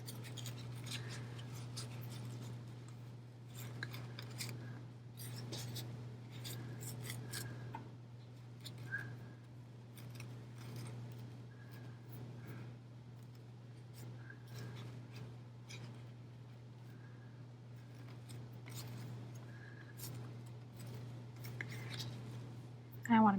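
Scissors snip through coffee filter paper in a series of short, crisp cuts scattered across a quiet room, with a steady low hum underneath.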